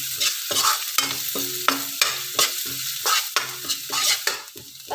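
Chopped onions sizzle and fry in a hot pan while a utensil stirs them in steady, repeated scraping strokes, close and loud, with no voices.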